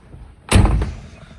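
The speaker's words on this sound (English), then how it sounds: "We'll close it up the door here." A 1968 Dodge Charger 440 V8 door shuts with one solid, close slam that fades quickly into a brief resonant rattle.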